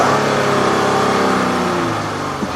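A 2015 sedan engine revved up to its 4,000 rpm limiter, a steady, loud mid-pitched drone held near the cap before easing off slightly at the end, no speech.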